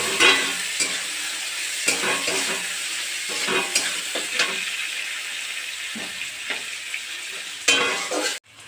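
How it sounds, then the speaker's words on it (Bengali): Onion frying in a pan for a simple chicken curry, with loud crackling sizzle and scraping stirring strokes recurring close by at an uneven rhythm, no speech. "পেঁয়াজটা ভাজা হয়ে গিয়েছে"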